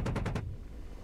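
The 30mm chain gun of an AH-64D Apache fires in DCS World, a quick burst of about four heavy, rapid shots that ends abruptly and leaves a low rumble.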